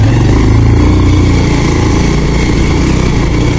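A motorcycle rides along a rough off-road village track, its engine droning loud and steady throughout, close up with no pauses.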